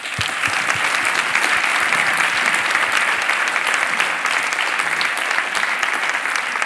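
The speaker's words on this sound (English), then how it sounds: "Please welcome Professor Ciechanover with great applause" An audience at an open forum applauds to welcome a professor, dense steady clapping that stays loud and even throughout with no speech over it.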